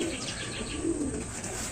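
Racing pigeon cooing softly at the loft after arriving from the first lap of a derby race, a low steady coo close by with faint background hiss and no talk.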